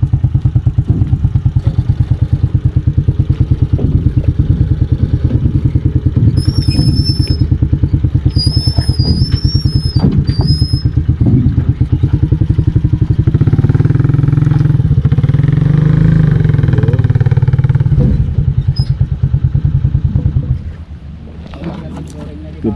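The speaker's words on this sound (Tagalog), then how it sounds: "tingnan natin kung paano isakay itong tricycle" A motor tricycle engine runs loudly and steadily throughout as it is driven aboard, with wind buffeting and people talking over it, before the engine cuts off near the end.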